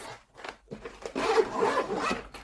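A zipper on a bag's compartment is drawn open in one steady, close rasping pull lasting over a second, preceded by light rustling of the fabric.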